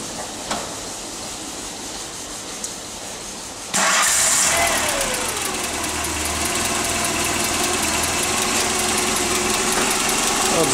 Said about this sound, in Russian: Вот, запустился двигатель.